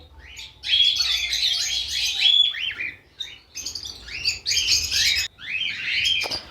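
A healthy breeding pair of cockatiels chirps close by in bright, rapid bursts of tweets, with brief pauses between flurries of calls.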